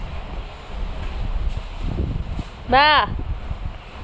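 Wind blows outdoors near a grandmother's house, a steady moderate rush with rustling and microphone buffeting, while a person speaks briefly and a high tonal cry rises near the end.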